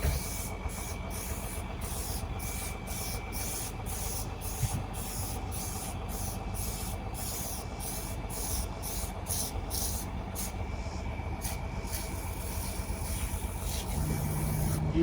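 No-rinse coil cleaner is sprayed onto the coil of a Winnebago RV basement air conditioner in a rapid series of short, hissing spray bursts, close and steady, over a continuous hum.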